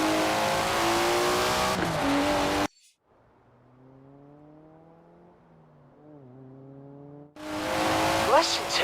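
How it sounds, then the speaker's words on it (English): A Datsun's engine roars and revs hard while racing toward Edinburgh in a driving game, cutting to a quieter, lower-pitched stretch of rising and falling engine tone before the loud revving returns at the end. "Listen to that. Never heard a Datsun sound like that, have you?"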